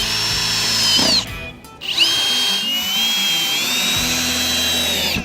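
Power drill driving screws into wood while a desk is being built, a loud whining spin that winds down to a short pause, then a second long run.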